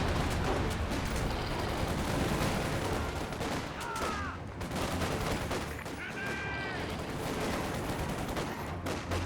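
Sustained machine gun fire from a Universal Carrier in the war strategy game Company of Heroes 2, dense overlapping bursts and battle noise throughout, with a couple of brief whistling tones partway through.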